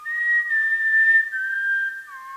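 A person whistles a sustained, clear tone that holds steady, then slides lower near the end, loud and close with no talk over it.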